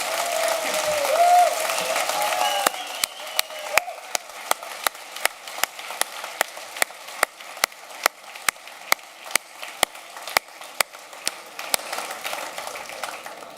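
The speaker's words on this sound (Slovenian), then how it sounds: "Dajmo en močen aplavz za Tanjo iz Socialnih demokratov in Asto iz" Applause rises from the crowd at a Slovenian political rally, a broad wash of clapping under an amplified voice at first, then thinning into scattered sharp individual claps that continue at an uneven pace.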